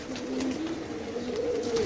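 Pigeons coo in soft, low repeated calls near a loft, a couple of drawn-out rolling coos over a faint steady background.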